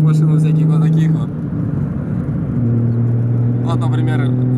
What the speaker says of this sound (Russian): Вот, например, Renault едет желтый.